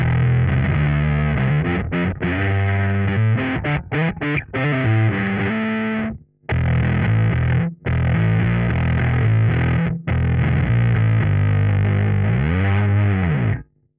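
Electric guitar through a Line 6 POD Express fuzz effect chugs through riffs and sustained chords, thick and buzzy, with a few abrupt stops and a bending note at the end.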